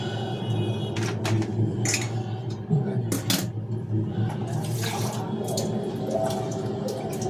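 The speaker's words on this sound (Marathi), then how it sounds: "एक ग्लास पूर्ण भरून पाणी टाकलं" A full glass of water is poured into a pot for gulab jamun syrup, making a steady, close splashing flow with small clinks and drips throughout.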